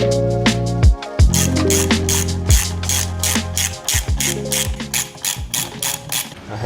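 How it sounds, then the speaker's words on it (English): A torque wrench ratchets repeatedly while tightening the wheel axle on an Indian motorcycle, loud close clicking strokes in quick bursts with brief pauses between pulls. "I'm going to torque this down and get this wheel back on the bike."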